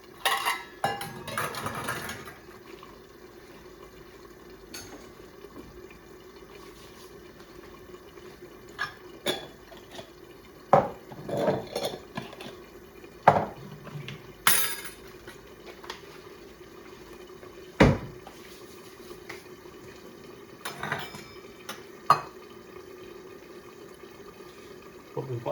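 Dishes and cutlery clink and clatter in a home kitchen while a chicken Madras curry is prepared, with scattered sharp knocks and rattles over a steady low hum.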